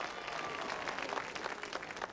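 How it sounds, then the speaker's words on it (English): A studio audience at a 1983 Christmas Knockout game show breaks into steady, dense, spontaneous applause, close and even throughout. "spontaneous applause from the audience"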